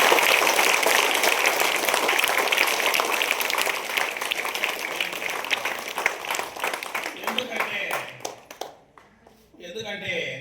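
A crowd of teachers and students applauds in a loud burst of clapping for a teacher, with a voice over it. The applause fades out near the end, and talk follows.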